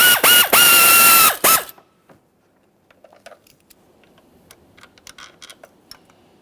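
A ratchet works an intake manifold bolt on a 2013-2020 Ford Fusion 2.0L I4. It opens with a few loud whining bursts, then a faint, quiet run of irregular clicking as the bolt turns.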